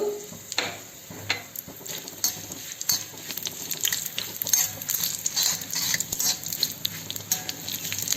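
Dried red chillies, deseeded and cut, frying in hot oil as a tempering for kalan, a steady close sizzle with light stirring clatter and no voices.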